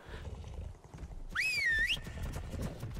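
A single swooping whistle, the command call in the video game ARK: Survival Evolved, rises and falls over about half a second, loud and bright above a rumbling game-world background with no talk.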